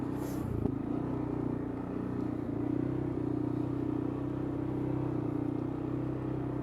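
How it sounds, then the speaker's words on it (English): A CF Moto CForce touring ATV descends a hill in high range under engine braking, its steady low engine drone holding close and constant with light clatter throughout. "And we're going to try our downhill engine braking."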